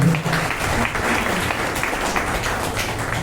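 An audience at a teacher award ceremony applauds steadily, a dense wash of clapping filling the room throughout, fairly loud and close with no voices above it.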